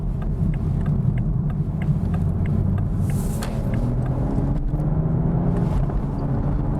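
A Toyota Supra 3.0 with manual transmission drones loudly and steadily from inside the cabin, its engine pitch rising gradually as it pulls under acceleration, with road rumble beneath.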